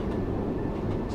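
A ScotRail Class 385 electric train in a train simulator video game hums and rumbles steadily as it accelerates on the Edinburgh–Glasgow route, heard close and continuous with no talking.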